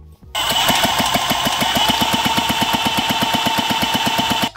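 A Piaggio Kinetic scooter's small two-stroke engine starts up and idles during an ignition timing check, a close, loud, rapid, evenly spaced popping beat that holds steady for several seconds.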